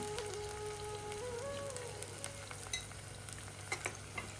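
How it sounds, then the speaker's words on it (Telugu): Ginger garlic paste frying in a pan with curry leaves for gongura mutton, a soft continuous sizzle with crackles and occasional scraping stirs, close but fairly quiet, with a faint tonal whine drifting underneath. "కొంచెం కరివేపాకు తగినంత అల్లం వెల్లి పేస్ట్ ఆ పచ్చిదనం పోయేంత మట్టుకు బునాయించుకోవాలి"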